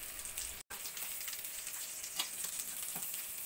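Pork sizzles in its own rendered fat in a pan, a soft, steady crackle with occasional sharp pops and a brief cut in the sound, no voices present.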